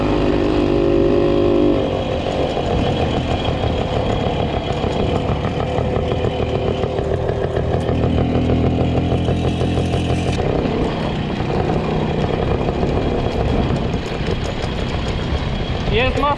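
WSK 125 motorcycle engine running steadily at half throttle, a loud, continuous buzzing two-stroke drone close by that holds for the whole stretch.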